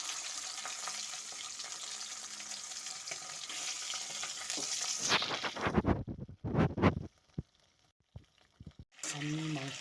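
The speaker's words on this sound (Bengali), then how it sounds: "এখন আমি আস্তে আস্তে করে এই মাংসগুলোকে এর মধ্যে ঢেলে দেবো।" Meat is poured into hot oil with fried cumin, chilli and bay leaf, a steady sizzle that swells into louder bursts of spitting as the pieces hit the pan, then drops to quieter crackles with pauses.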